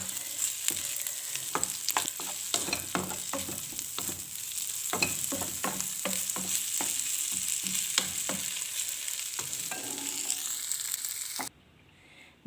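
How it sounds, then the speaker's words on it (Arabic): Chicken pieces sizzling and frying in a pan for a chicken and fish pastilla, with steady crackle and repeated stirring clatters throughout, close and fairly loud, ending abruptly near the end. "من بعد ما شحرت الدجاج"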